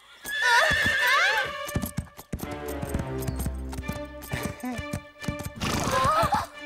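A cartoon horse whinnies loudly, then hooves clatter in a fast galloping rhythm, followed by another shrill neigh, all close and loud.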